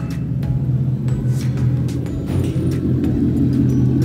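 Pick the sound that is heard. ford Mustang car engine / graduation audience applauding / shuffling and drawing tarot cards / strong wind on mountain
ford Mustang car engine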